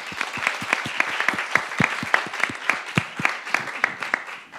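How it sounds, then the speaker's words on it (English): Brief audience applause for two panelists after a discussion on urban violence, a few seconds of distinct individual claps from a modest group, fairly close and steady before tapering off. "You are both wonderful, so a round of applause"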